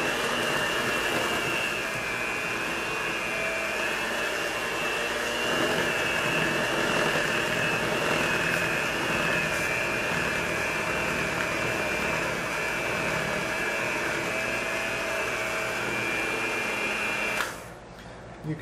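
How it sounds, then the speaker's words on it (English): A stand mixer runs steadily and loudly, its motor whirring without a break as it kneads a thick gluten-free rice flour sourdough, then stops abruptly near the end. "You can see that dough climbing up the mixer blades."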